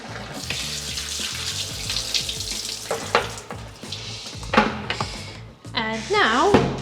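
Caravan toilet cassette being emptied at a basic campsite pitch in Spain: gurgling, splashing liquid pouring out in uneven bursts, with a sharper rushing surge near the end.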